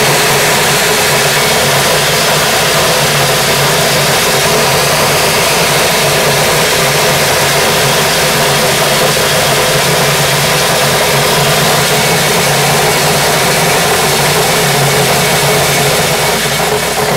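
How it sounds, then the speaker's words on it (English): Loud, constant mechanical roar and hum of an Element Analytic optical color seed sorter running, a dense unbroken machine drone with no voices. "So let's go ahead and run the machine for you."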